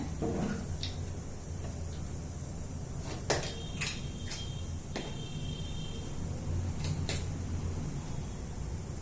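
In a home kitchen making potato fry, a pan is set on the stove with a few sharp metallic clanks and knocks, then oil goes in amid soft handling noises.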